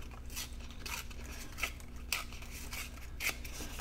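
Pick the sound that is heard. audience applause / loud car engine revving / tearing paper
tearing paper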